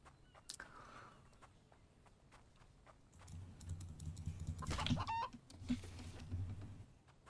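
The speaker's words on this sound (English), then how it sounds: "Yes, chicken." Chickens cluck in a survival video game, with several short clucks and squawks rising over a steady stretch of rapid keyboard and mouse clicking close up.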